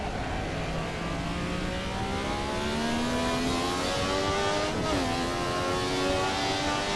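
A Ferrari 312T racing car engine in Assetto Corsa screams at high revs at the Nürburgring, its pitch climbing steadily through a gear change, loud and continuous with a harsh, buzzy tone.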